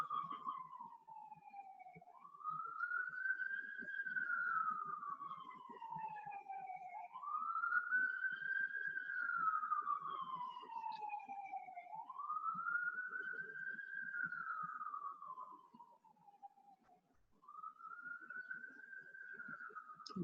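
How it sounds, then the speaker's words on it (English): An emergency siren wails outside in long rising and falling sweeps, repeating about four times, moderately distant and steady before briefly fading and returning, with no talking over it. "There's a siren passing by"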